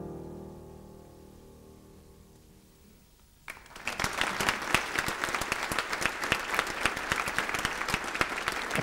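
A crowd bursts into applause after a singer performs a song. A quiet musical tail comes first, then dense, loud clapping arrives suddenly and carries on steadily to the end.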